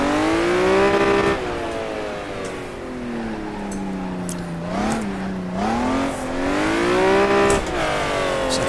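A Honda NSX revs and downshifts on the tight Buckmore kart circuit, the engine note loud and close, dropping in pitch, then blipping and climbing again through the gears, with strong harmonic sweeps and a few sharp rises.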